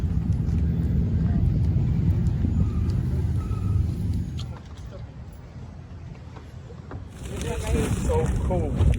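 A boat being pulled in at a dock on a sailing trip in the Gulf of Mexico, with a loud low engine rumble and wind noise that drop back midway, then return with brighter hiss.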